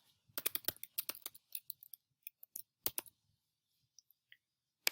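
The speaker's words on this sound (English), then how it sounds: "I'm going to type his first name" A computer keyboard clatters in soft bursts of quick key taps as names are typed, a burst of rapid clicks followed by scattered single presses with pauses, close and quiet with no talking.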